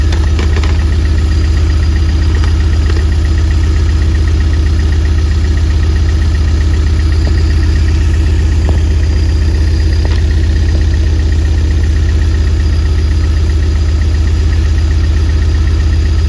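A Toyota MR2 engine idles steadily with its ignition timing slightly off, a loud, continuous low rumble with faint irregular knocks and no talking.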